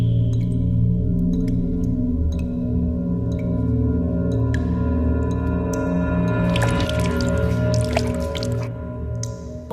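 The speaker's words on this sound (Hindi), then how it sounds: "पानी लीक हो रहा है टेरेस पर।" Water leaking from a terrace falls in sparse, irregular drips, each a sharp plink over a steady low hum, with a brief cluster of splashing drops near the end.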